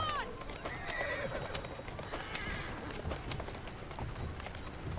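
A horse-drawn carriage in Assassin's Creed Syndicate, set in Victorian London, with horses whinnying and hooves clattering at a run under continuous street bustle, all fairly faint.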